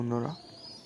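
A Kalanka male pigeon gives a single short, low coo up close, followed by faint background hiss.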